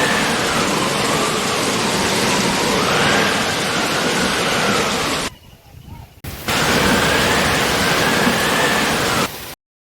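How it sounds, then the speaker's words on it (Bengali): A storm with torrential rain roars loud and unbroken, a thick wash of wind and downpour that briefly drops away before surging back just as strong. "ঝড় উঠেছে, ঝড় আর বৃষ্টি তো মুষলধারে বৃষ্টি পড়ছে।"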